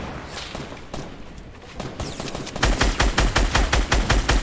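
Automatic gunfire in the Rumble Royale game mode: after a busy, noisy lead-in, a rapid, regular stream of loud, punchy shots rattles on for the last couple of seconds.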